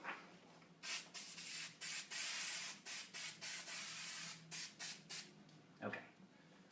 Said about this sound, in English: I'm going to spray the back of this stencil.